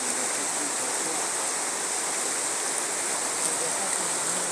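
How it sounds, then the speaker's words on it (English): The fast-flowing River Gura in Africa, a continuous full roar of rushing water, loud and close and unbroken, with no voices over it. "This is the fastest river in Africa."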